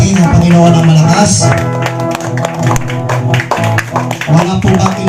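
A church congregation claps loudly for the Lord during a Holy Week service, steady applause running the whole time under music and a voice speaking over it.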